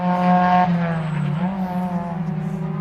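A Ford Fiesta junior championship race car runs a sighting lap during qualifying, its engine note holding a loud, sustained whine that dips and rises through gear changes, heard close and continuous.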